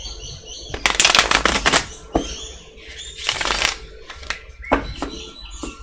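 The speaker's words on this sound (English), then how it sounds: "More shuffle here." Tarot cards being shuffled by hand, with bursts of riffling and flapping card noise coming in several uneven rounds, close and fairly loud, with short pauses between them and faint chirps in the background.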